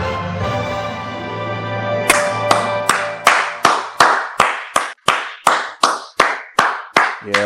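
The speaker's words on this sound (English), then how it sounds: "Yeah, I'll do a round of applause." Applause from a gamer podcast intro: a fast run of sharp, sparse claps rings out after a short stretch of music, loud and close, each clap clearly separated with a brief decay.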